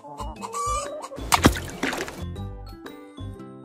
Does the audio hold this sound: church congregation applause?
no